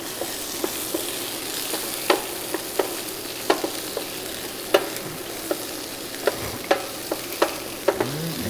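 Vegetables sautéing in a pan for an Iraqi eggplant stew: a continuous gentle sizzle punctuated by regular sharp clicks and scrapes of a utensil stirring, heard up close without speech.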